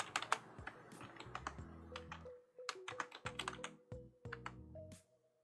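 Close, rapid typing on a computer keyboard, with quick irregular bursts of key clacks and short pauses between runs, heard alone and fairly quiet.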